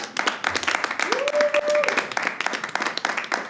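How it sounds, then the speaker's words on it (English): A live comedy show audience applauds the host in a dense, continuous burst of clapping, with a few cheers rising briefly over it. "Keep the clapping going for your man, your host, Jeff Hyde."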